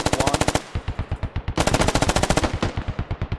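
Video game gunfire in a tactical squad-based shooter: loud, rapid automatic bursts of tightly spaced shots, a short pause near the middle, then another long run of rapid fire that trails off into slower single shots.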